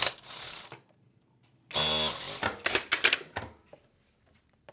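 A sewing machine stitching slippery satin patchwork blocks for a scrap-fabric stole runs in a loud close buzz, stops briefly, then sews in several short stuttering bursts before falling quiet.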